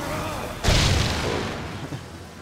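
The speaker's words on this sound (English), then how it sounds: "Explosions." A sudden heavy boom bursts out partway through, then rolls into a long, loud rumble that slowly fades; a video-game explosion from the action game Darksiders II.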